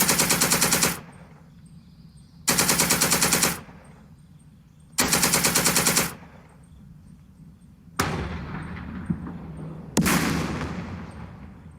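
Defensive gunfire in the wargame Second Front, with five loud rapid bursts of machine-gun fire at regular intervals, the last two heavier and echoing as they decay, with no talk.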